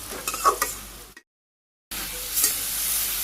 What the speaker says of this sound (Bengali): এইখানে আমি কাঁচামরিচ দিয়ে দিই, আর কিছু কাঁচা পেঁয়াজ দিয়ে দিই। তো এইভাবেই রান্না করুন